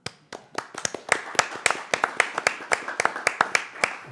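Hands clapping at a city council work session, a steady run of sharp, close claps from a small group in a quiet room, about four per second and evenly paced.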